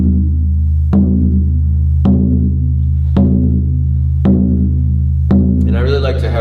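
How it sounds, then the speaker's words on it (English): Synthetic-skin frame drum, a shaman or buffalo drum, struck with a mallet: five evenly spaced deep booming hits about a second apart, each ringing and decaying over a steady low hum, with a brief brighter rustle at the end. "that's more like what we call a shaman drum or buffalo drum."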